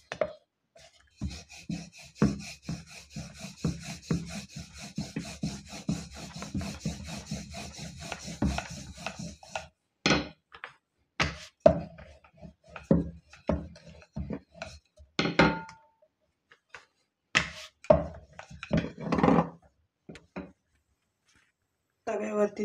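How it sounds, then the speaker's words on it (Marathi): Sesame-filled flatbread dough (til poli) rolled out with a rolling pin, rhythmic rubbing and knocking strokes, dense at first then in separate short bursts with pauses, close up and fairly loud. "पोळी लाटून घ्यायची."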